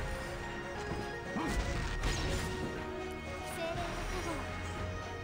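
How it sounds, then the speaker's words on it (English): A smash attack hit from a character in a turn-based mobile game battle against a fire boss, a loud crashing impact with whooshing effects over dense layered game sound and music. "Sigrid smashes for about half of the remaining health."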